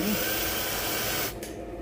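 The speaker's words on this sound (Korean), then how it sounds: "드릴로 2mm 드릴날로 일단 구멍을 내주시고 피스를 박아주시면 됩니다" A power drill runs steadily for just over a second, boring pilot holes with a 2 mm bit or driving screws into wooden boards for an outdoor picnic table, then cuts off, leaving quiet room tone.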